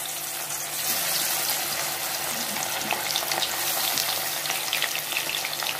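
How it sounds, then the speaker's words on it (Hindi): Pieces of shorputi fish fry in hot oil, a steady, dense sizzle that holds close and loud the whole time, with a few faint clinks and a watery crackle and no voices. "जब एक तरफ अच्छे से फ्राई हो जाएगी तो हम लोग दूसरे तरफ के लिए इसको पलटा के फ्राई कर लेंगे।"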